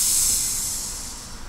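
A voice imitates a hiss with a single drawn-out 'sss', bright and close, fading gradually over about a second and a half.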